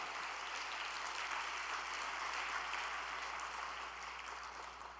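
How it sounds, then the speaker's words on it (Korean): Sustained applause from a church prayer-service audience honoring twelve visiting pastors from America, a steady even wash of clapping with no voices, holding at a moderate distance for the whole stretch and easing slightly at the end. "우리 12분의 목사님들을 위해 큰 감사의 박수를 다시"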